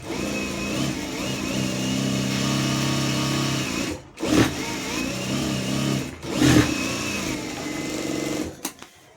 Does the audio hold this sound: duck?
no